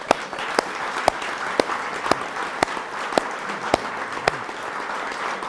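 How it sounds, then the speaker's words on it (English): A crowd applauds at the dedication of a livestock pavilion at the Cornish Fair, steady clapping heard from a moderate distance, with a few sharper, louder claps standing out at regular intervals. "Give them a nice round of applause."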